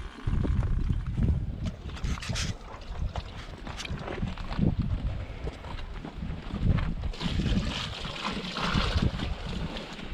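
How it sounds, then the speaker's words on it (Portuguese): Cattle feed mash of ration and water being stirred by hand gives irregular wet sloshing and swishing, fairly quiet and close, with some wind-like rumble on the microphone. "Coloca 2 litros de ração e 2 litros de água, certo? E vira aí o sopão"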